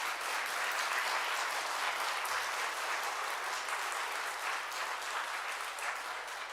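Church revival meeting congregation giving sustained, vigorous applause for a visiting pastor, dense steady clapping filling the hall throughout without voices on top.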